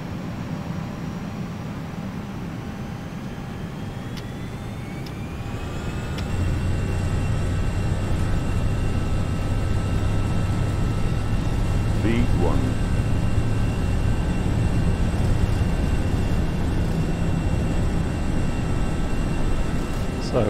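Airliner departing runway 06 at Naples, Italy, in the FSLabs flight simulator game, a steady engine roar that swells and holds louder as the takeoff run builds, with a low droning hum and faint clicks.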